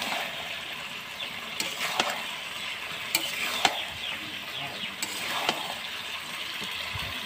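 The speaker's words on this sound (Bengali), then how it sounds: "কিছুক্ষণ পর চলে এলাম, ঢাকা সরিয়ে আবার একটু নেড়ে নেব।" Meat curry stirred in a pot after the lid comes off, an ongoing bubbling sizzle punctuated by repeated sharp scrapes and clacks of the spoon against the pot at irregular intervals, close and without speech.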